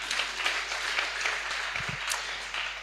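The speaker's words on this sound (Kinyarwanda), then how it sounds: "Nimukoma amashyi." Congregation applauding in a church service, steady broadband clapping throughout with a few brief low thumps, moderately loud and continuous.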